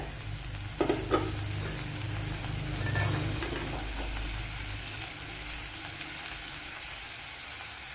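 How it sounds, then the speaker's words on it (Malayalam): Fenugreek seeds frying in oil in a pan give a continuous, even sizzle throughout, with a couple of brief stirring clinks near the start and no talking. "ഇവിടെ ഉലുവയൊക്കെ മൂത്ത് വന്നിട്ടുണ്ട്"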